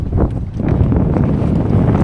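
Strong wind at sea during a fishing trip roars and buffets continuously, loud and close, with rumbling gusts and no speech.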